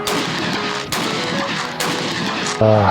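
Three loud, sharp gunshot bursts in quick succession from test-firing anti-drone rounds, each trailing into a rumble, followed by a steady tonal hum.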